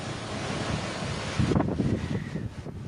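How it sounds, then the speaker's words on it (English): Typhoon-force wind roars and heavy waves crash against the coast in a continuous, loud, rushing wash, with wind buffeting the microphone. "Waves battered the coasts."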